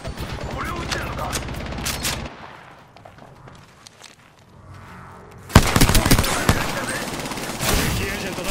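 Apex Legends gunfire: a rapid burst of automatic shots for about two seconds, a quieter lull with faint mechanical clicks and a brief hum, then loud crackling volleys and impacts resume and continue to the end.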